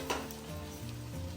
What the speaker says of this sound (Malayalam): നല്ല ഇളക്കി കൊടുക്കാം.